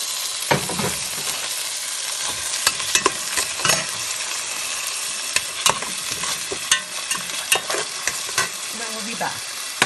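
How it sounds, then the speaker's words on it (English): Rice sizzles as it fries in ghee at low heat for chicken pulao, with a spoon scraping and clicking through it in irregular stirring strokes over a steady close crackle. "I'm just going to be giving this a stir until it feels a little bit heavy in texture"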